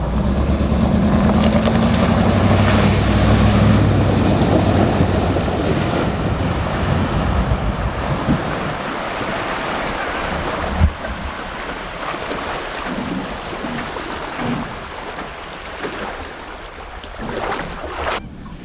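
A Ford F-250 pickup ploughs through a water crossing off-road, with heavy churning and splashing at the start that eases into a steady rush of water and wind noise, broken by a few sharp knocks.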